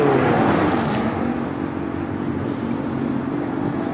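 A Caterham Super Light race car with a 1667 cc engine at a hillclimb, its engine a steady loud roar close by, fading slightly as it holds a broad rushing drone throughout.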